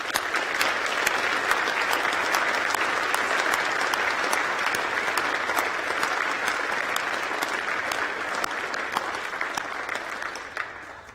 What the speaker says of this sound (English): I think another round of applause might be in order